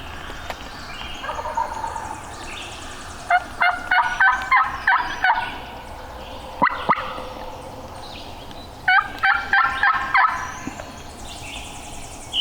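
A wild turkey gobbles in the woods, several bursts of rapid rattling calls separated by pauses, moderately near and standing out over a quiet outdoor background.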